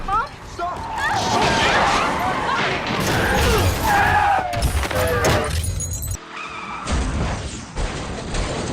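Car braking and skidding amid a chaotic traffic scene, with loud tire squeals, engine noise and crash-like impacts over dense background sound, a brief drop-off near the end, and voices mixed in.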